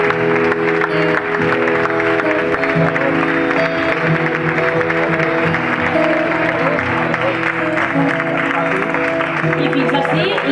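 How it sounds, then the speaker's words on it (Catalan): Loud, sustained audience applause at a Valencian falla presentation event, dense and even clapping from a large crowd filling the room, with some crowd noise mixed in. "Despedim amb un fort aplaudiment a la Junta Local Fallera."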